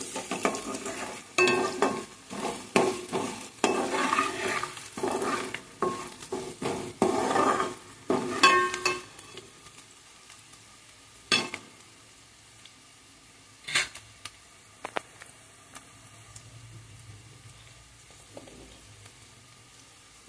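Cauliflower curry stirred in a frying pan, a spoon scraping and clattering against the metal in busy strokes over a soft sizzle, then easing off into sparse clinks and quiet frying.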